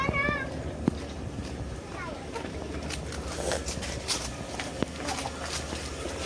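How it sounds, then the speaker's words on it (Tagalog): A cat at close range gives a short meow at the start and another faint mewing cry a couple of seconds later, against low outdoor background noise. "Ay, may pusa."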